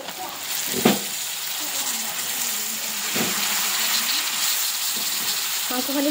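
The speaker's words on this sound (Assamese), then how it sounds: "ভালদৰে অলপ সময় ভাজি ল'ম মই পানী নিদিয়াকৈ" Meat fries in a pan without water, giving a steady close sizzle and hiss with a few sharp clinks of a utensil scattered through.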